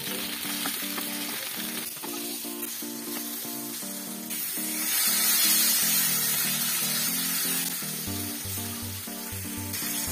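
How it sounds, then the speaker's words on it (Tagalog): Dried fish (daing) frying in a pan sizzles loudly and continuously, crackling oil dominating throughout, with faint background music and no talking. "Ayan po yung ating daing, ipiprito na po natin."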